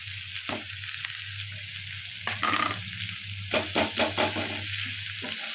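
Ginger, garlic and spices fry in hot oil for a Bengali koi fish dish: a steady close sizzle with a low background hum, broken by several louder bursts of stirring and scraping toward the end.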